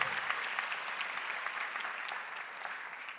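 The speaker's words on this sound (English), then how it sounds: "Give her a big round of applause" Warm applause from an audience at a charity awards auction, a steady wash of clapping that holds evenly and tapers slightly toward the end.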